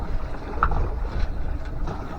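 A sailboat heads toward Ajaccio under wind power alone, sails just set and engine off, with steady rushing wind and water noise buffeting the microphone throughout.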